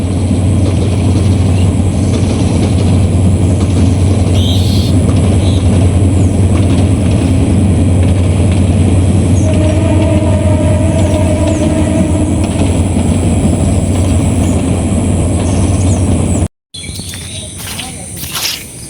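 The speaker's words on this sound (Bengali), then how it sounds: "এখন ট্রেন চলে যেতেছে আর কি" A very long train pulling away from a station during heavy rain, with a continuous low rumble and rhythmic mechanical clatter that breaks off suddenly near the end.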